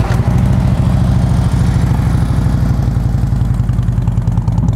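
A Harley-Davidson Ultra Limited motorcycle fitted with Bassani exhausts idles with a loud, close, deep lumpy rumble, its irregular loping pulses steady throughout with no talking.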